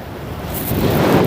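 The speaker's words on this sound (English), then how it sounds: "it's so windy here" Strong wind buffets the microphone on an exposed lakeshore near Cherry Beach in Toronto's Port Lands in early March, a steady broadband roar that builds louder toward the end, with no voices.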